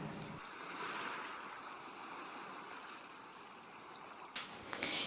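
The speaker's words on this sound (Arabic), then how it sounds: "والآن نبقى مع صوت الموج الجميل" Gentle ocean waves wash steadily at low volume, a soft continuous surf with a slightly brighter swell near the end and no voices.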